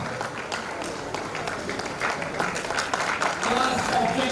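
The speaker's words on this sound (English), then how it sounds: "Can we give a round of applause?" A graduation crowd gives a standing ovation, steady dense clapping that swells slightly toward the end, with voices and cheers mixed into the sustained applause.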